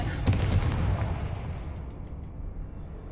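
A Confringo blast spell in the Hogwarts Legacy video game, a loud booming explosion that bursts suddenly and then rumbles away over a few seconds.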